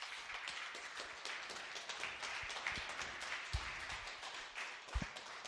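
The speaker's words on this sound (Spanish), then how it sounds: "Denle un aplauso al Señor." Congregation applause at a Spanish-language church sermon, a steady wash of many hands clapping at moderate distance, sustained throughout with a few louder claps standing out.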